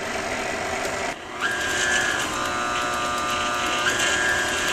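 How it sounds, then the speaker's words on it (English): An electric mixer whirs steadily while blending red velvet cake batter, a continuous mechanical hum with a rising whine, briefly dipping once as it keeps running. "Leave the mixer going and add the next installment."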